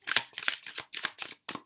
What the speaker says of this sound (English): I'm just going to shuffle them out.